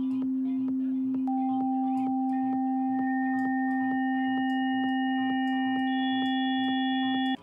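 A steady synthesized sine tone from the Oatmeal additive synth, with extra drawn harmonics entering one after another as pure higher tones stacking above the fundamental, over faint rhythmic ticking, then cutting off abruptly.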